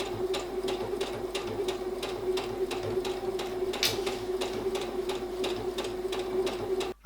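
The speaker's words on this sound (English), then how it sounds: "I've been to the machine and I've machine sewed along the full length of the neckband where we pinned." A sewing machine stitches around a vest neckband with a fast, even run of sharp mechanical ticks over a soft motor hum, close by, stopping abruptly at the end.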